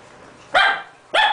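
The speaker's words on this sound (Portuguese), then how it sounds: "Para de latir." Two sharp, close dog barks about half a second apart, loud and alone indoors.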